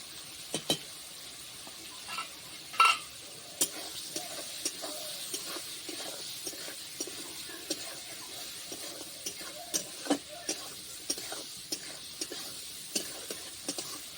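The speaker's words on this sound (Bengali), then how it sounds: "হালকা করে চিংড়ি মাছগুলো ভেজে নেব" Prawns frying lightly with salt and turmeric give a soft, low sizzle, broken by frequent small clicks and taps of a spatula stirring in the pan.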